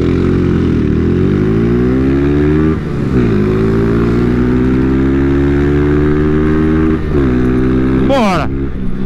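Many motorcycles, among them small Honda Titan 160 style bikes, riding together on a road, engines droning loud and close with rising and falling revs and one sharp pass near the end while riders talk over them.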